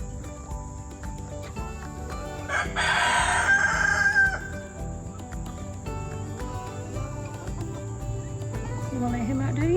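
A farm rooster crows once, loud and close, over a steady background of insect chirping and other birds.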